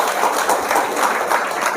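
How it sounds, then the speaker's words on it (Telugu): Audience applause at a crowded motivational business gathering: dense, steady clapping with rippling swells, fairly loud and sustained throughout, no voices on top. "ఒక్కసారి బిగ్ రౌండ్ ఆఫ్ అప్లాజ్"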